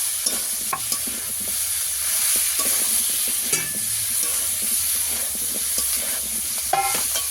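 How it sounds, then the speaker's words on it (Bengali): Vegetables sautéed with ginger paste and chili powder in a pan, loud continuous frying sizzle with frequent spatula scrapes and knocks against the pan, close up and steady throughout. "আদা বাটা দিয়ে দেবো। এবার সব কিছু একসঙ্গে আমি কষিয়ে নেব।"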